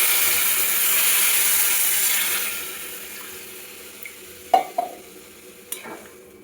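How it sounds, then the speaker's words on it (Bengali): Water poured into a pan of frying drumstick-flower (sajne phool) curry, a loud broadband sizzle and splash for a couple of seconds that fades, followed by a few sharp clinks and stirring knocks, no voices. "তার জন্য আমি এর মধ্যে একটু জল দিয়ে দেবো"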